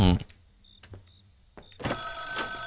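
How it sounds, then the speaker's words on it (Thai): An in-game telephone rings in the horror game Let Me Inside, with short repeated bell trills before a louder, fuller ringing burst near the end, and a voice present alongside. "มีโทรศัพท์มาครับ"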